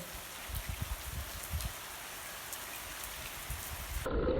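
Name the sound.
heavy rain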